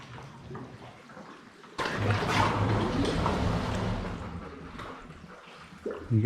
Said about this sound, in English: You guys hear that? It sort of breathes in there.